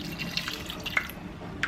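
Tap water runs steadily into a pressure cooker pot holding about a kilo of small potatoes, a soft continuous splashing and trickling close by, ending in a brief louder clunk.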